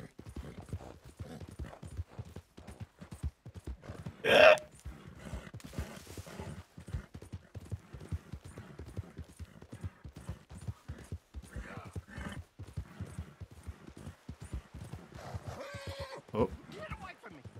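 A horse in Red Dead Redemption 2 clip-clops steadily, with a loud whinny partway through and a few more snorts and neighs, under near-constant talk.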